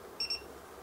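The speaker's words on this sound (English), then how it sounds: "Hioki beeps when it takes the first voltage measurement." A Hioki multimeter taking a voltage measurement gives two short, high electronic beeps in quick succession, clear and close over faint background hum.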